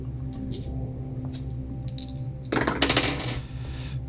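Dice clatter and roll across a table during a tabletop role-playing game session, a short loud burst of rattling that fades out after about a second, over a steady low background hum.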